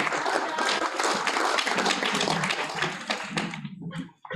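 Audience at a graduation ceremony breaks into dense, sustained clapping, loud and continuous for several seconds before thinning out and dropping away near the end.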